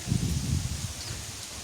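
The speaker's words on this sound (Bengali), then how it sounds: "আহ কি ঠান্ডা বাতাস" Steady cool wind rustling through leaves as clouds gather before rain on a hot day, a continuous soft whooshing that fades slightly, with no talking.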